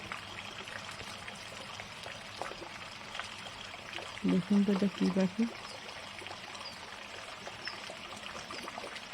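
Rain falls outdoors as a steady soft patter and trickle, while someone speaks briefly close by partway through.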